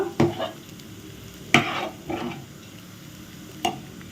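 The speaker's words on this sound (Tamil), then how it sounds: "அப்பப்போ பொங்கலை வந்து கிளறி விட்டுக்கிட்டே இருங்க" Sweet pongal made with jaggery is stirred in a pot, with a soft bubbling simmer beneath a few spaced scraping strokes of the ladle, close and moderately loud, no talking.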